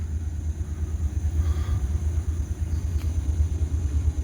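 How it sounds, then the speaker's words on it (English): A train locomotive lugs a heavy load uphill with a deep, steady low rumble that stays fairly loud and constant, with a faint rattle drifting in from a distance. "Sounds like he's got a heavy train."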